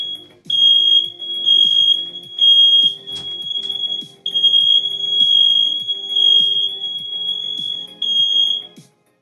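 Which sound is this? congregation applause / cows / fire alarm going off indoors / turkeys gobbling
fire alarm going off indoors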